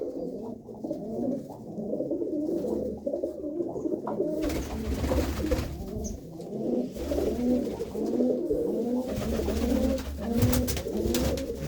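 Several deep red Cheena pigeons coo in overlapping low, throbbing rolls that run without a break, close and fairly loud, with a rougher burst of background rustle partway through.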